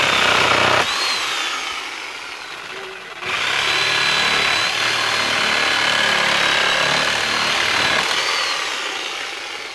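A saw fitted with a metal-cutting GRAPHITE blade rasps through a wooden pallet board, a loud, bright, continuous cutting noise with a short dip midway before resuming.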